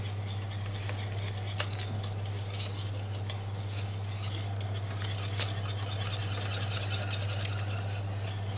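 A whisk or spoon stirs batter in a bowl as milk is poured in to make a crêpe-style batter, giving a steady, continuous scraping swirl with faint clinks over a constant low hum.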